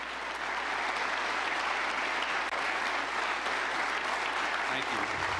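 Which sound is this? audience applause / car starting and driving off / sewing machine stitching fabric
audience applause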